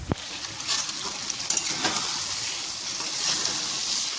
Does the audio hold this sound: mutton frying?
yes